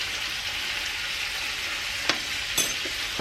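Butter with rosemary and garlic sizzles steadily in a hot pan, a constant close frying hiss broken by a couple of faint clicks.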